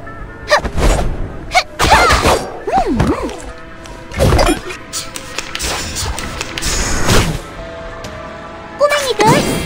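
Punch impacts in the video game Reverse: 1999 land as sharp whacks and thuds, several in quick bursts across the clip, mixed with game effects and voiced character shouts.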